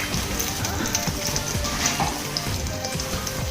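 Eggs frying in a pan over very high heat, a steady, dense sizzle and crackle that holds close and even throughout with no voices.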